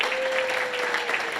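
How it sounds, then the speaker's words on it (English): An audience at a high school senior parent night applauds a student named Asher, a steady, moderate round of clapping over a single sustained musical tone. "we get a big round of applause for Asher"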